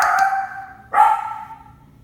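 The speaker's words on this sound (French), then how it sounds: "Ça, c'est notre chien Théo." A pet dog gives two close, loud barks indoors, the second a longer bark that fades out.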